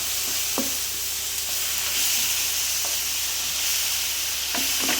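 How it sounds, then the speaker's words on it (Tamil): Masala cooking with yogurt in a pan for prawn masala gives a continuous hissing sizzle, with a few sharp spoon scrapes and taps scattered across it. "தயிரோட எல்லாத்தையும் ஆட் பண்ணிடுவோம் ஆட் பண்ணி ஒரு ஃப்ரை பண்ணுவோம்"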